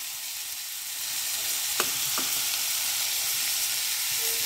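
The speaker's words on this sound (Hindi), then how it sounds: "अब हम इसे 2-3 मिनट ऐसे ही भूनेंगे" Carrots and peas fry with dry spices in a pan, a steady close hiss of sizzling with a couple of faint stirring clinks.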